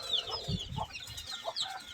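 Desi hens in a village poultry brooding shed cluck in short, repeated bursts at close range, soft throaty calls coming one after another over a low background, with no talk.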